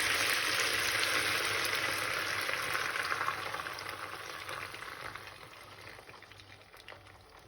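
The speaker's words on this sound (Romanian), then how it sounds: "Am început să se prăjească." Food sizzles steadily in a frying pan with cooking cream added, a continuous broadband hiss that stays fairly loud at first and then gradually softens over several seconds, with no talking.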